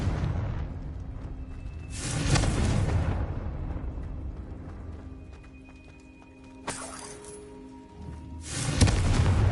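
In Hogwarts Legacy, the Confringo blasting spell goes off three times as loud, booming explosions, with a low rumble lingering between the blasts.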